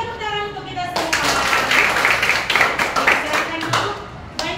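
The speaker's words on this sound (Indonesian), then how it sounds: "Tepuk tangan untuk kita semua." A sixth-grade class claps hands in a burst of applause, dense close clapping that swells and fades over a few seconds, mixed with children's voices and an adult speaking before it starts.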